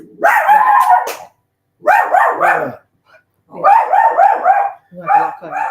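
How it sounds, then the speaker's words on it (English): Dog barking and howling in a house, four loud, close bursts of yelping, drawn-out vocalizing separated by short pauses. "dog is going crazy."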